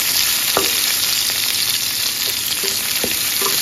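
Sliced onions drop into hot oil and set off a loud, dense, continuous sizzle up close. A few light clicks of a spoon against the pan can be heard, and no one speaks.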